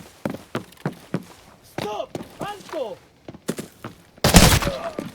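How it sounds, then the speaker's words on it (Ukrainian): Scattered gunshots pop at a distance in the video game Arena Breakout Infinite, single and irregular, under someone talking. A louder, denser burst comes near the end. "О, чуєш, вже стріляються на конюшні."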